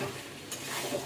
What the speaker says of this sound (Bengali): এবারে এটা আমি এখন কষাবো অনেকক্ষণ ধরে